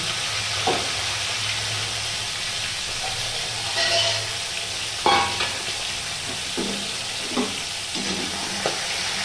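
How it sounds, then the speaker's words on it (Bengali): Continuous hissing sizzle of tangra fish frying in oil, with occasional sharper crackles and clinks of a utensil against the wok. "এই মাছগুলোকে ভেজে নিচ্ছি।"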